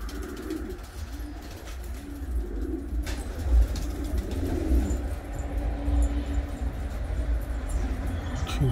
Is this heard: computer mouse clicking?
no